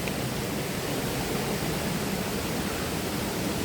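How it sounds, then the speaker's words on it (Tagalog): Imugan Falls in Nueva Vizcaya pours down as a dense, steady roar of falling water, broadband and unbroken, heard close up. "Yan ang falls oh. Oh, di ba? Ang lakas."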